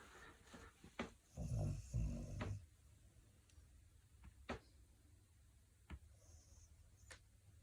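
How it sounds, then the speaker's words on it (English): A dog snoring close by, with a cluster of low, rough snore breaths near the start, then quieter scattered clicks and soft sounds in a quiet room. "Am I filming you snoring?"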